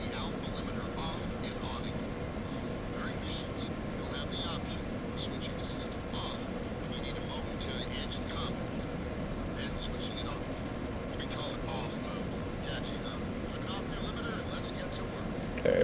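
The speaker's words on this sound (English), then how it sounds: "this plane is, what's it called? The F-15 Active." An F-15 ACTIVE jet in Tom Clancy's H.A.W.X. gives a steady, unbroken engine roar and rushing air noise that holds at an even level throughout.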